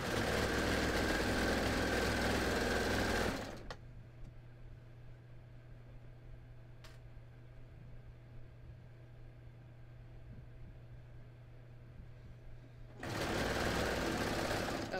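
A sewing machine runs steadily, stitching a skort seam, loud and close for about three seconds at the start and again near the end, with a quiet stretch of faint hum between the two bursts.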